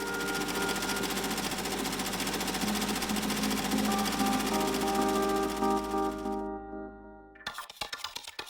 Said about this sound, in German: hier wird mit Wärme und Druck geschweißt und damit kann ich winddichte und wasserdichte Nähte herstellen